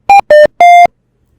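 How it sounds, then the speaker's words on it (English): Three crisp electronic beeps in quick succession from QGIS software finishing a satellite image stacking task, the last one held a little longer, loud and clean, followed by silence. "Usually there will be a beep sound."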